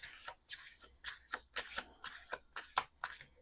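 Rapid, steady riffle shuffling of a tarot deck, about eight quick bursts in a row, close by.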